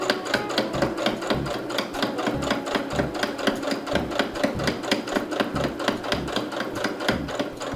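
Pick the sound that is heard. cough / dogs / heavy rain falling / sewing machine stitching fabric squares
sewing machine stitching fabric squares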